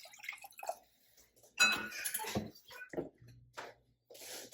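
Water splashes and trickles into a pot with sugar and white vinegar in a few uneven pours, close by, with clinking of cookware in between.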